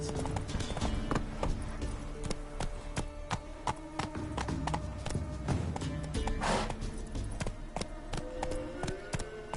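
The horse Roach clip-clops along in a video game, its hooves striking in a steady, close, continuous rhythm over a dense background of other activity.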